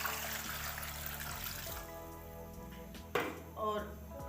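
Water poured from a glass into a pot of beef trotters for paya, a splashing, trickling pour that stops partway, followed by a few clinks and a brief splash, with a voice speaking throughout.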